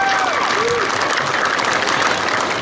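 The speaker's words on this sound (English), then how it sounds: "Give them all a great big round of applause right there." Audience at a tractor pull benefit in New Vienna, Iowa claps steadily in a broad, continuous wash of applause, with a few voices and a whistle-like tone rising over it.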